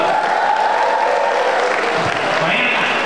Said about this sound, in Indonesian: Istimewa, tepuk tangan dulu